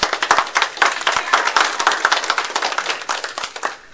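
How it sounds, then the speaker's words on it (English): Audience applause at a Boy Scout Court of Honor, dense rapid hand clapping from a room full of people, close and lively, tapering off toward the end. "Now I'd like to give everyone a round of applause for earning the"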